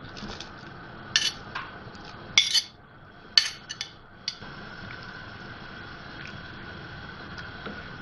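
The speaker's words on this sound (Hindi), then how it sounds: "ये चिकन डाल रही हूँ इसमें मैं" Shredded chicken goes into a pot of chicken corn soup: a handful of sharp metal clinks and spoon scrapes against the pot over a quiet, faintly liquid background, then calmer.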